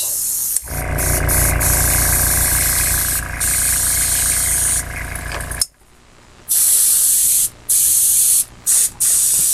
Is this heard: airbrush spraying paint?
yes